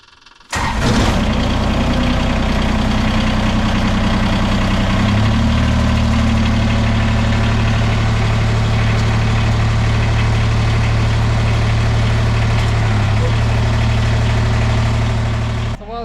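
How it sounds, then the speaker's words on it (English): A Kubota BX2380 compact tractor engine starts up, then idles loud and steady while warming up, with a low, constant rumble that barely changes. "Tractor's warming up."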